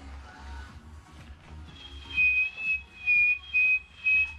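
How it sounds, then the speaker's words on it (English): A person whistles a few short, bright notes in a bouncy rhythm, close by and fairly clear over a quiet, low background hum. "Why am I whistling like that?"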